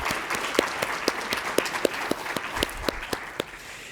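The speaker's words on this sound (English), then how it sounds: "I'd love to get a round of applause for our conference team and the food service people." Audience applause for a conference team and food service staff at a closing session of a partners' meeting, with steady moderate clapping and a few sharper individual claps standing out.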